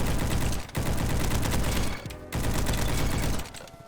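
Rapid bursts of Scar assault rifle fire in a video game, loud and dense, broken by two brief pauses, with no voices over the shooting.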